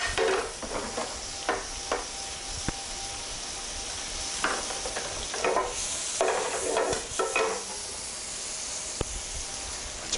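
Fusilli being stirred and tossed with prawns in a hot pan, a steady sizzle broken by repeated scraping, clattering stirs, close and moderately loud, with no talking.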